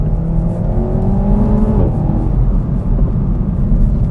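A car pulls away steadily, its engine rising in pitch in a smooth climb that eases off midway and then settles into a loud, constant road rumble with no other sounds.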